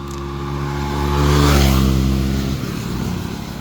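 A motor vehicle passes along a road, its engine rumble swelling loud and close before easing off as it moves away, with no talking.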